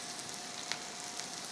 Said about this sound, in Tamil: எண்ணெய் சூடானதன் பிறகு 1 டேபிள் ஸ்பூன் அளவு பொடியாக நறுக்கிய பூண்டு, 4 டேபிள் ஸ்பூன் அளவு பொடியாக நறுக்கிய வெங்காயம்